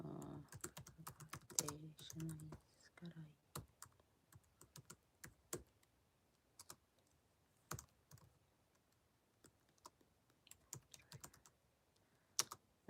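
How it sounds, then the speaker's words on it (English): Clicky typing on a computer keyboard, quiet and close, with a brief dense burst of keystrokes at first and then sparse, irregular single key presses and short clusters. "I'm actually going to type a mantra in here"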